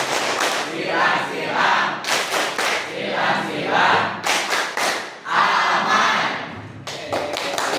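Students in a classroom health lesson play a call-and-response clapping chant, with bursts of group clapping and thumps alternating with the class shouting short words together in rhythm.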